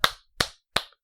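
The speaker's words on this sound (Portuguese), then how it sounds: "Palmas aqui." Four sharp hand claps ring out alone, evenly spaced about a third of a second apart, close and crisp with quiet gaps between them.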